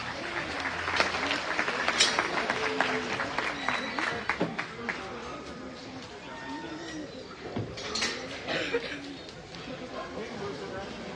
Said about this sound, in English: Let's give them one more round of applause as they head back.